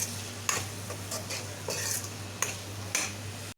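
A spoon stirring spice powders into boiled corn and capsicum in a pan, with repeated scraping strokes and a soft sizzle over a low steady hum, close and fairly quiet.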